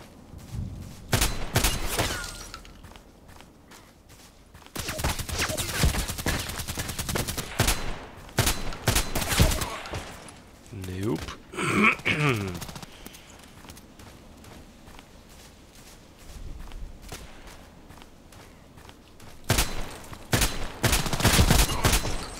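Shotgun blasts in a first-person shooter deathmatch on a sawmill map, heavy bursts of rapid gunfire in clusters with gaps, footsteps and game effects between, loud and close.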